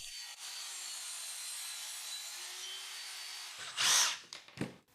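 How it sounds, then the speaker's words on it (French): A table saw rip-cuts an MDF board held between the fence and blade, a steady high whine through most of the cut, then a sharp louder burst as the blade clears the board and the motor winds down. "je vais régler le guide afin de pouvoir coincer cette planche de MDF entre le guide et la lame, le verrouiller et je suis prêt à faire la coupe"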